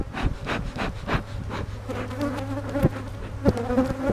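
Honeybees buzz around an opened beehive, a dense close swarm hum with individual bees zipping past the ear in rising and falling drones, alongside a few soft knocks from handling the frames.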